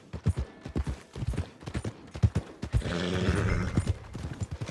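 Horse hooves clip-clopping in the video game Red Dead Redemption 2, a steady walking rhythm of close, distinct hoof strikes that continues under a brief swell of other game sound.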